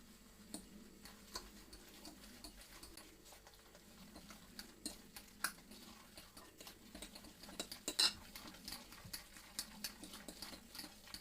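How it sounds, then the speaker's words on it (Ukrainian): Light, irregular clicks and scrapes of a fork against a bowl, stirring cottage cheese with sugar and eggs, quiet and close, with no voices. "Перемішуємо все виделкою до однорідності."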